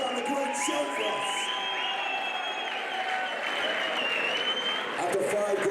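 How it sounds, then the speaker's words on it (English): A crowd applauding both fighters at a boxing event after the match, sustained clapping and cheering in a large hall, partly under a loud amplified voice and a bright tonal hum. "please show your round of applause for both fighters"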